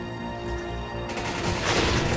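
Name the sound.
explosion in the video game Resident Evil 5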